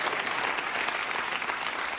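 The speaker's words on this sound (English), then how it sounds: "The audience applauds." Brief, moderately soft round of audience clapping in a university computer science lecture hall, a continuous patter of many hands at an even level throughout.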